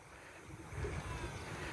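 Flowing water rushes steadily as a broad, airy wash with no voices, swelling a little louder partway through and holding there.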